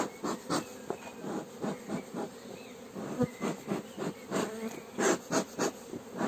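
Dense buzzing of many honeybees at an open hive, pulsing and swelling in waves, close by with no voices.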